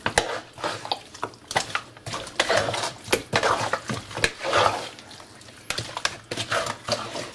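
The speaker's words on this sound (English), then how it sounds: "And now I'm going to give it a good stir." A curried duck marinade being stirred in a bowl, with repeated wet clinks and scrapes of a utensil against the dish in an uneven rhythm, close and fairly loud, with no talking.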